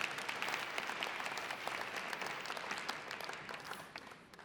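Sustained audience applause fills a large keynote hall at a legal technology conference, a dense, steady wash of many hands clapping that gradually thins and fades toward the end, with no talk over it.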